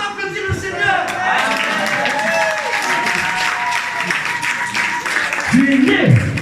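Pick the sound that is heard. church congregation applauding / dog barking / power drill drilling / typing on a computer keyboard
church congregation applauding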